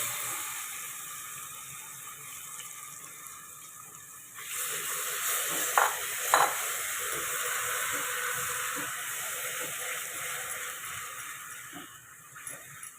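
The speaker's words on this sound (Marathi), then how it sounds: "आता हा दुधात भिजवलेला रवा घालूया." Milk-soaked semolina hits a hot pan with a sudden broad hiss that jumps louder midway, then settles into a steady sizzle with faint stirring scrapes.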